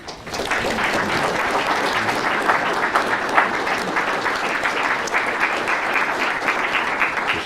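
A university audience applauds to welcome a speaker, with steady dense clapping that starts abruptly and continues loud and unbroken throughout.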